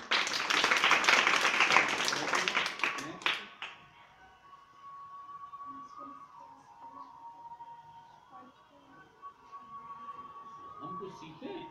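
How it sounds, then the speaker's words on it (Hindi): Audience clapping bursts out loudly for about three seconds with dense, quick hand claps, then dies away, leaving faint room noise and scattered quiet voices. "बिल्कुल तालियां बजाओ भाई।"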